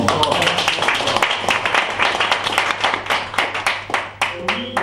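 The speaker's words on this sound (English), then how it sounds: "give our speaker a big round of applause" Audience applause for a speaker at a speech evaluation session, many hands clapping in a brisk, steady rhythm, close and loud, with a low hum underneath.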